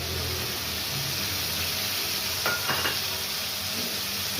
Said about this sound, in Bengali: কষে নিচ্ছি মশলাটা